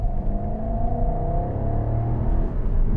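A 2012 Jaguar XK 5.0 V8 Portfolio accelerates, its engine note a loud, steady low rumble rising gradually from inside the cabin with no talk.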